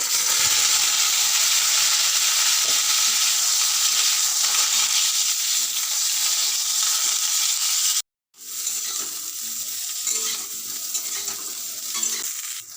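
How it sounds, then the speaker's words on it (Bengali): Cauliflower florets frying in hot oil in a wok, a loud dense sizzle that runs steadily, cuts out for a moment, then resumes with occasional stirring knocks. "এবার আমি ফুলকপিগুলো ভেজে নেব"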